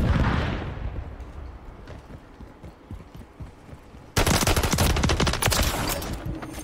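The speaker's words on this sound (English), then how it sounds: "Who are you shooting me with, Jay? A fucking pistol?" Pistol fire in Modern Warfare 3: a scatter of fairly soft shots over game noise, then a sudden loud, dense run of rapid close gunfire for the last couple of seconds.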